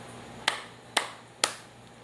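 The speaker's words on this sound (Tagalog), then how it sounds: "bigyan natin ang ating mga sarili ng tatlong palakpak" Three sharp, evenly spaced hand claps ring out close and clear in a quiet online classroom lesson, each a crisp single slap followed by silence.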